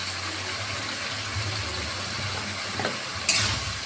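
Spice paste with ginger, salt and turmeric sizzles and is stirred in a hot pan for a pangas fish curry, a steady close frying hiss with a brief sharper splash near the end.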